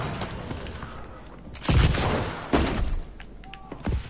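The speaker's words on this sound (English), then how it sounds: "This is a submachine gun." Submachine gun in Call of Duty: Advanced Warfare, heard as a few loud, sharp bursts of close gunfire with thuds and game noise between them and no talk.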